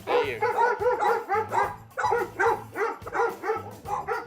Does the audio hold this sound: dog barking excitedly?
yes